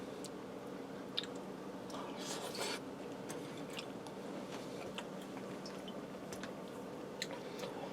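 Someone chewing a mouthful of cheesy lasagna with tender pasta, sauce and cheese, cooked in one pot in a Ninja Speedi: soft, wet mastication and faint squishes, close and quiet, with no talking.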